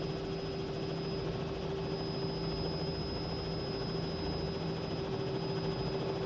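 A steady, droning rotor and turbine hum comes from a CowanSim Robinson R66 helicopter lifting off in Microsoft Flight Simulator, with a constant whine on top that stays unchanged throughout.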